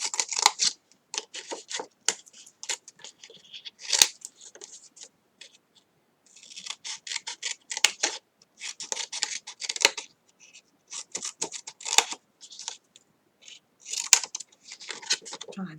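Scissors snipping through paper while making a library-themed advent calendar, a long run of crisp, rapid cuts in bursts with brief pauses, close and clear with no talk.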